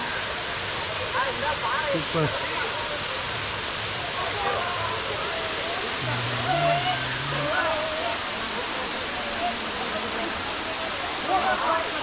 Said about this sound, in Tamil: நீர் கொட்டுறது அருவி